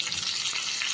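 Spices such as asafoetida and mustard seeds tempering in hot oil in a small tadka pan, a steady close crackling sizzle that stays loud and even throughout with no talking.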